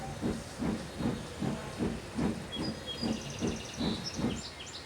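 A steam locomotive hauling a goods train chuffs away in an even, repeating rhythm of steam bursts over a constant hiss, with faint high chirps and whistles above.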